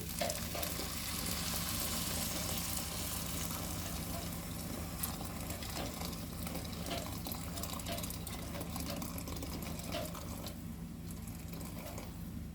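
Rice stir-fried in a pot for a fish dish gives a steady, close sizzle with soft scraping and stirring under a faint hum, holding level throughout with no talk.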